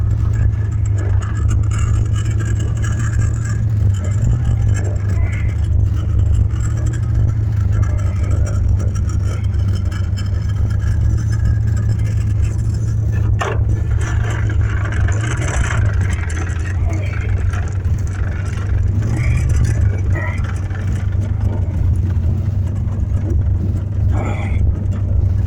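A car engine hums steadily at a low, constant drone while the vehicle reverses, loud and close throughout with no clear revving.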